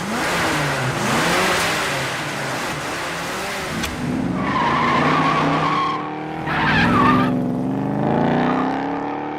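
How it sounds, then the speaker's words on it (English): An animated car starts up and revs in Gunsmith Cats episode 1, loud and close, with engine surges and tire-squeal-like skidding rising and falling in several bursts, and no talk. "listen to this car starting up from episode 1"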